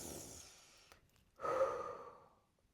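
A person draws a breath in a quiet room, a soft airy exhale fading, a brief pause, then a fuller breath in that swells and slowly tapers off, close and faint.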